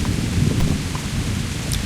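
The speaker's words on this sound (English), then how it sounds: "One cold, rainy day in the lightning storm." Steady rain and a low rumble of thunder fill a lightning storm in the medieval game Kingdom Come: Deliverance, a continuous close wash of noise with no talking.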